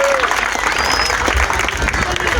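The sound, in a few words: audience clapping at a festival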